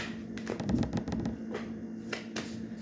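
A deck of tarot cards is shuffled and cards are drawn, making close, crisp riffling and flicking bursts in quick succession, with no voices.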